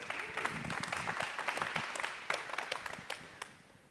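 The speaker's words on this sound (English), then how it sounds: "Colby, clap it up for Colby," A small gathering at a business funding event claps for a guest brought up front, a loose patter of individual claps with distinct sharp hits, fairly quiet and uneven, tapering toward the end.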